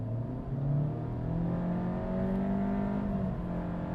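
A Honda Civic accelerating hard from a launch, its engine note rising steadily with stepped dips where a simulated gear change resets the pitch, heard from inside the cabin with no talking.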